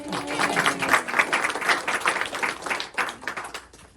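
A small audience at a short story award presentation claps steadily for several seconds, a dense patter of hands that gradually thins out toward the end, with a brief voice at the start.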